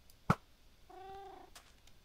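A cat in the video game New World gives a short, soft drawn-out vocal sound after a sharp click, faint and with no talk.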